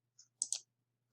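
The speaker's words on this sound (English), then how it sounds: "I'm going to click on that" A computer mouse gives a few short, crisp clicks, close and quiet, with a small double click in the middle and silence between them.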